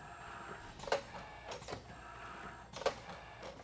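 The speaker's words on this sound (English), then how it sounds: "let's go ahead and put the press into production" An automatic screen printing press runs production with water-based ink, printing shirts and flooding the screen between prints, giving repeated mechanical clacks and swishes at a steady pace over a low background hum.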